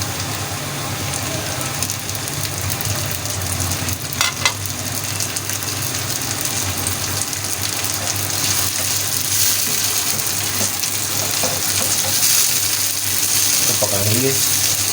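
Chopped tomatoes fry in a pan, giving a steady low sizzle that runs throughout at moderate volume, with a few faint clinks and kitchen sounds and no talk.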